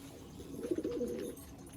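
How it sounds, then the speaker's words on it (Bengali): A big desi kagzi pigeon gives a soft, low cooing phrase that swells in the middle of the clip, faint and close against a quiet background. "এটা দেশি পায়রা, কাগজি পায়রা, কত সুন্দর দেখুন, একদম বিগ সাইজ কাগজি।"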